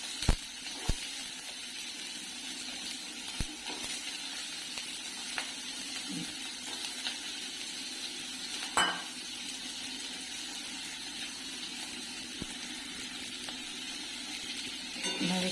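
Papaya with poppy seed paste frying in a generous amount of oil, a steady, soft sizzle running throughout with occasional faint clicks of a utensil against the pan, no talking.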